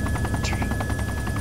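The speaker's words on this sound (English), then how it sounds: "Helicopter going overhead." Military helicopter passing overhead in the game ArmA 2 after takeoff from a carrier at night, a steady rotor thump and engine drone with a rhythmic chop and one brief higher whine.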